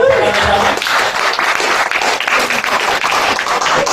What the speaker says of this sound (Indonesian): Boleh pegang tepuk tangan dulu buat.